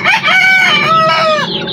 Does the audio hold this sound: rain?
no